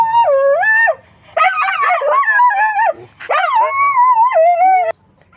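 A dog whimpers and yelps up close in long, rising, excited cries, broken by two short pauses.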